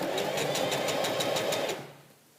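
A sewing machine stitches a pencil skirt in a fast, rhythmic burst of needle clatter, close and loud, then slows and stops, leaving a quiet hum.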